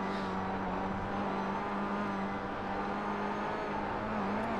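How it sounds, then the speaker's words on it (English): Race car engine in iRacing at Summit Point, a steady droning whine as the driver feathers the throttle, holding a fairly constant pitch with slight dips, moderately loud and alone. "you can hear him feathering the throttle through there"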